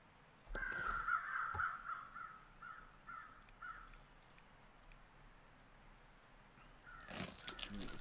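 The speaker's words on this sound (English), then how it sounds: "there's crows up here" Crows caw in a snowy wilderness in the survival game The Long Dark, one harsh call repeated several times in a quick run, then a few scattered fainter caws over quiet wind, with a burst of noise near the end.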